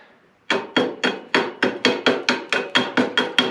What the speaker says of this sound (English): So let's get this weld cleaned up and see what we got.